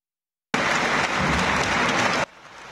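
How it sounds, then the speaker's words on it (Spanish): Hundreds of mourners at a public funeral wake in a coliseum break into dense, steady applause that starts abruptly, holds loud for under two seconds, then drops to a softer patter. "un coliseo que retumbaba por los aplausos"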